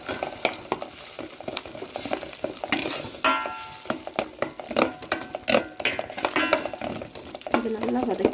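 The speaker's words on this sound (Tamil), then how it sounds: "இது நல்லா வதக்கி வச்சு இப்போ இதில் வந்து நல்லா பச்சை வாசனை போகிற அளவுக்கு நல்லா வதக்கிட்டோம்." Chilli powder and turmeric masala are sautéed in a pan for a mutton kola urundai recipe. Soft frying sizzle runs under repeated scraping and stirring strokes of a utensil against the pan, with a few metallic clinks.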